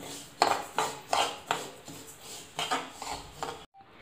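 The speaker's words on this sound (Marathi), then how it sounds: "आपल्याला तीळ व्यवस्थित भाजून घ्यायचे आहेत" Sesame seeds roasting in a dry pan for til ladoo, stirred with repeated rhythmic scraping and rustling strokes, close and fairly loud, ending in a sudden drop to near silence.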